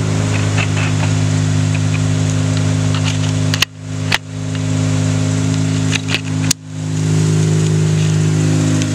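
A Mazda RX-8 rotary engine with blown coolant seals runs steadily up close, a loud droning hum with a few brief sharp dips and blips as the revs stumble, no talk over it.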